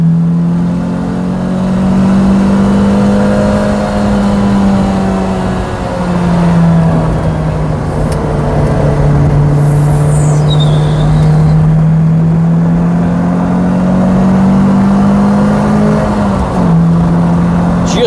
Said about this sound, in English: Just hear it when it kicks in, that VVTi, and you get that extra little surge of power.